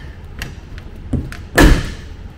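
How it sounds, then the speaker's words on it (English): A heavy thud as a bag lands on a hard surface inside a Bell 206 helicopter with its doors off, preceded by a few lighter knocks and taps, close by over a low background rumble. "I'm just going to throw my bag back here."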